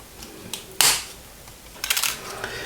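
Brass tubing is cut on an Airfix 1/24 scale Spitfire Mk IX model kit, giving a sharp snapping click followed by a short burst of small scraping, crunching clicks, close and fairly loud.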